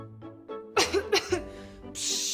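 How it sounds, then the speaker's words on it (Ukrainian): A person gives a short burst of several harsh coughs in quick succession, close and loud, followed by a breathy exhale. "кашель"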